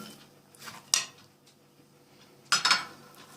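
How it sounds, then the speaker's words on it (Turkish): Coarsely chopped walnuts are tipped from a small bowl into muhammara, giving two brief bursts of clattering and scraping against the dish, with quiet pauses between. "Bakın iri doğradığım cevizlerimi de ekliyorum."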